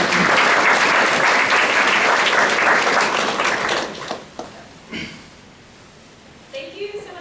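An audience applauds to welcome a speaker at a bioethics talk, with loud, sustained clapping that fades out after about four seconds, followed by a few faint sounds in a quiet room.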